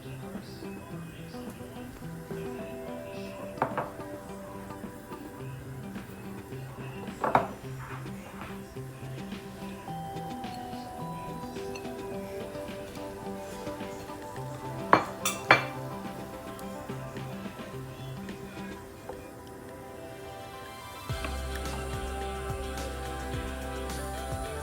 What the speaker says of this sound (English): Keep mixing that while it's on the stove, guys